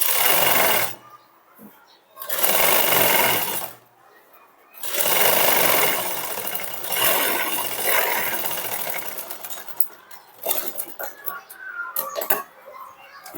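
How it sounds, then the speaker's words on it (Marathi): A sewing machine stitching a sleeve joint with a double line of stitches, running loud and close in several long bursts separated by short pauses, ending in choppier spurts. "आता एक शिलाई मारली परत याच्यावरच आपल्याला डबल शिलाई मारून घ्यायची आहे"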